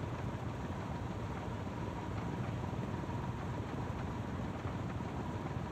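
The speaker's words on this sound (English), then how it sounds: "you can hear that the radial engines do actually have a radial engine like sound to them" Radial engines of a DHC-4 Caribou in Microsoft Flight Simulator drone in a steady, even, broadband roar, heard from outside the aircraft, faint and unbroken with no talking.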